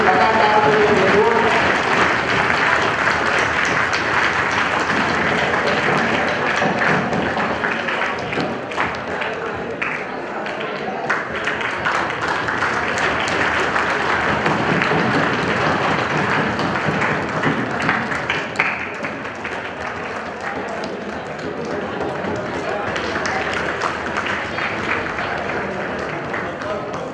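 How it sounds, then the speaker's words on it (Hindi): Sustained applause from a large crowd at a children's and youth parliament event in Siwan, steady clapping that swells and continues for a long stretch, with voices mixed in beneath it. "तालियां बजे, जोरदार बजे, लगातार बजे"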